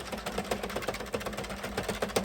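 An Addi Express Kingsize knitting machine cranked quickly makes a steady run of close, rapid clicks and clacks, slightly uneven where the mechanism catches.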